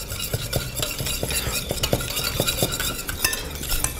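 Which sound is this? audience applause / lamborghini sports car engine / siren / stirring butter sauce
stirring butter sauce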